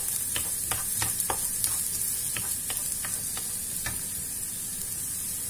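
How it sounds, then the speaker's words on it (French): Onions sizzle in a frying pan while they turn translucent, a steady close hiss with repeated crisp crackles and light stirring scrapes throughout. "Je surveille mes oignons jusqu'à ce qu'ils deviennent translucides."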